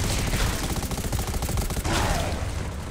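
Rapid machine gun fire in a Garena shooter game, a loud dense burst of rattling shots firing in quick succession across the whole moment.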